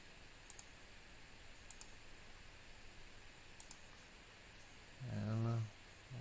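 A computer mouse clicks quietly in sharp double taps, a few spaced over several seconds, while drawing shapes in Adobe Illustrator against a faint hiss, with a brief rustle near the end.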